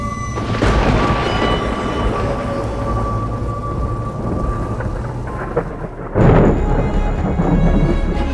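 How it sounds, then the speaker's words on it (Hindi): Thunder from an approaching storm rolls loudly and continuously with steady rain, then a sharper, heavier crack of thunder bursts in near the end, with no voices present. "लगता है तूफान आने वाला है, हमें जल्दी निकलना चाहिए इससे पहले कि हम फंस जाएं।"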